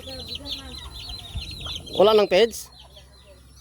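Chickens at a feeding spot cluck in short, close bursts, with two loud squawks near the middle, while a person speaks briefly nearby.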